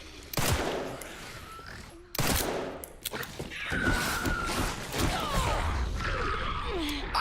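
Gunfire in Resident Evil 9 pours into a zombie: sharp, loud shots in quick succession, separated at first and then crowding into rapid volleys, with gasps and breathy effort sounds among them.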